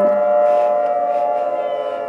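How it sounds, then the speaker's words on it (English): A loud outdoor tornado siren, sounding in a scheduled test, drones steadily at a single sustained pitch, filling the air with no voices. "every 12 o'clock on Saturday, they test the sirens because, you know, tornado season is just a month and a half away"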